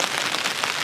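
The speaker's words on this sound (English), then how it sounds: "It's really, really heavy rain and the wind's right up." Heavy rain pelts down at the shore during a sea-fishing outing, a dense, steady hiss of drops with wind, loud and continuous throughout.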